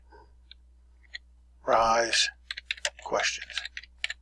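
Keys clicking on a computer keyboard in short, sparse bursts, mostly after a stretch of someone talking, with a few isolated taps before.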